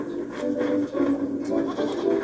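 In the video game Blanc, a goat gives several short, nasal bleats in quick succession, fairly close and moderately loud.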